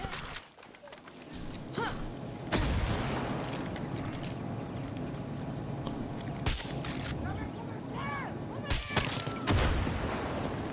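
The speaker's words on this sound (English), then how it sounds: "Someone's shooting RPGs at me and I don't like it." Gunfire and explosive bursts in the video game Far Cry 6, sharp loud cracks and booms scattered across the stretch, with a couple of heavy blasts standing out over a busy battle din.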